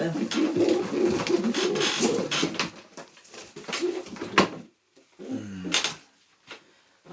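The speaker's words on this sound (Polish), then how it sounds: "fajny, spokojny gołąb" A calm pigeon coos close by in a loft at a charity pigeon auction, soft repeated coos with a few sharp knocks and gaps, while people talk nearby.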